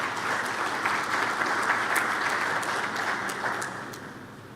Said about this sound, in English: can we clap hands for Prof. Mabapa, who's going to come and introduce Hoshe Mutapo?